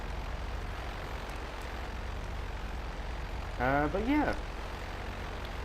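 A Western Rogue propeller plane in GTA V Online drones with a steady, even engine hum throughout, while someone briefly speaks over it near the end.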